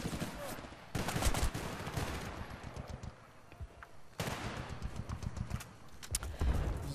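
AK rifle gunfire in Battlefield Bad Company 2, sustained bursts of shots with a quieter lull midway, then heavy firing resumes amid battle noise.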